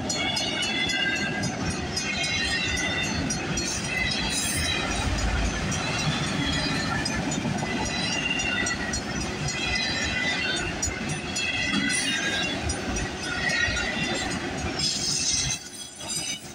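Freight train cars roll past at a level crossing, with a CP SD60 locomotive trailing at the rear: loud, continuous rumbling and clattering of wheels on rail with occasional metallic squeals and clinks, steady throughout.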